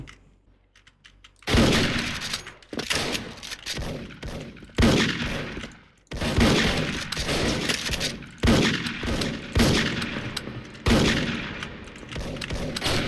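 Dragunov sniper rifle fire in the Special Force shooter game: after a quiet opening, about eight loud, sharp single shots ring out at irregular intervals, each trailing off before the next.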